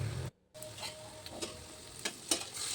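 Raw plantain fritters sizzle in hot frying oil as they are turned, a steady crackle with a brief break and scattered ticks and pops from stirring.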